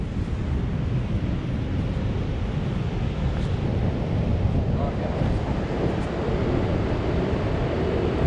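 Giant ocean surf at Newport roars continuously and loudly onto the shore, with wind buffeting the microphone and no clear breaks between waves.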